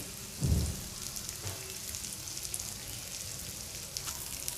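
Karli fish pieces fry in hot oil with a steady, close sizzling hiss and occasional louder crackles, including a brief thump early on.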